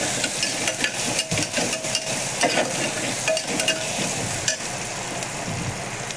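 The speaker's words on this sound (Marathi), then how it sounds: "कांदा टाकला तर कांदा चांगला भाजून घ्यायचा." Onion frying in a pan for dal fry, a loud continuous sizzle with frequent quick spoon scrapes and taps, close up and without talk.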